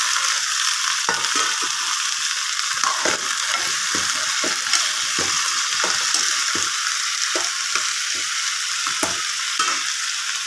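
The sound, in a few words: okra frying in pan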